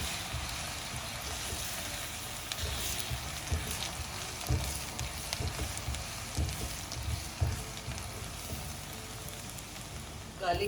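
Garlic fries in a pan for the Indo-Chinese dish veg Manchurian, giving a steady, soft crackling sizzle with occasional sharper pops, fairly quiet and close, while a voice speaks faintly at times.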